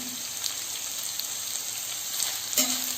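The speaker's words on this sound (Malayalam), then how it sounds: "സവാള നന്നായിട്ട് വഴന്നു വന്നിട്ടുണ്ട്." Onions sautéing in oil with salt for a Kerala-style mutton roast, a steady close sizzle with a brief louder stir near the end.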